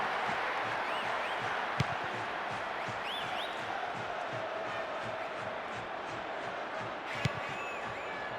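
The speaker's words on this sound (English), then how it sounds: "crowd are creating a tremendous atmosphere" Stadium crowd in the PES 5 football game, AC Milan against Liverpool, a steady continuous roar of cheering and chanting that holds at an even level throughout, with a couple of sharp whistle-like peaks.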